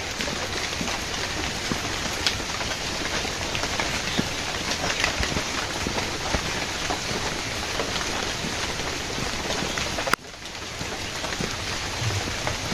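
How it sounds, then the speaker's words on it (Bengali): Light drizzling rain falling steadily outdoors after a night of rain, a soft even patter that continues throughout and briefly dips near the end. "একইভাবে টিপ টিপ টিপ টিপ গুড়ি গুড়ি বৃষ্টি"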